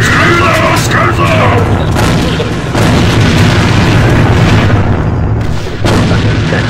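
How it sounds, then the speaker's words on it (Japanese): Grenade blasts in the online shooter AVA, several loud, close booms with sharp crackling bursts, one heavy hit after another, with voices faintly mixed in. "手榴弾を使うぞ。"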